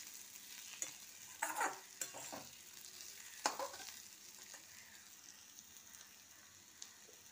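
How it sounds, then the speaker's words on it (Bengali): Ginger garlic paste sautés in a pan, giving a quiet, steady sizzle broken by a few sharp scraping stirs; faint and close with no voices. "এটা আমি কষবো যতক্ষণ না আদা রসুনের গন্ধটা যায়।"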